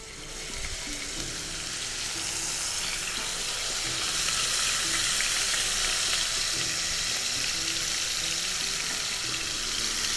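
Ginger garlic paste sizzling loudly in hot oil with cumin and whole spices, a steady dense crackling fry that holds for the whole stretch, close and without talk.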